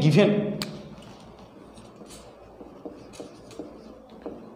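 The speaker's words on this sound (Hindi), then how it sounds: "जो चीज़ दिया हुआ है उसको पहले हम लोग लिखेंगे" Someone writes given values on a board during a physics lesson on refraction; the tool makes soft, scattered scratching taps after a brief burst of voice at the start.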